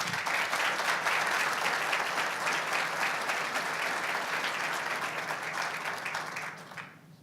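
A conference audience applauds a finished talk with dense, steady clapping that holds for several seconds and then fades out near the end.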